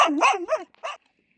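A dog gives a quick run of several close, loud yelping barks in a row. A single shorter bark follows after a brief gap, and then everything goes quiet.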